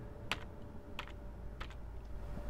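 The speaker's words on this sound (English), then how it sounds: "I'm hitting letters U and D on the keyboard." Keys U and D tapped on a computer keyboard while setting the BIOS of a Dell 755, a few soft isolated clicks spaced about a third to half a second apart over a quiet hum.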